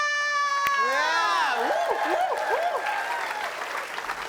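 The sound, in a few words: studio audience applause and cheering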